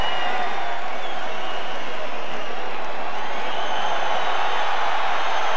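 A boxing arena crowd roars for Vitali Klitschko in his fight against Corrie Sanders, a dense, sustained wash of cheering and applause that swells steadily throughout.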